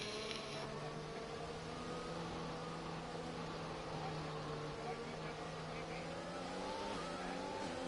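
Race cars in a racing video game launching off the grid at the start of a Bahrain race, a dense, steady engine drone with rising harmonic tones as the pack accelerates together, loud and continuous throughout.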